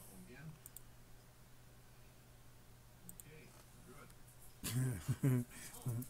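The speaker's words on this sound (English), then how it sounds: "I'm going to type done" Typing on a computer keyboard: a few isolated clicks early on, then a denser, louder cluster of keystrokes near the end over a steady background hum.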